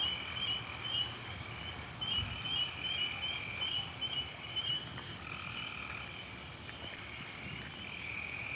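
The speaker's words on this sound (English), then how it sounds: "maybe you could hear just these frogs going nuts" Frogs croak in a dense, steady chorus at night after a storm in Georgia, with insects trilling alongside at a moderate distance, and no voices.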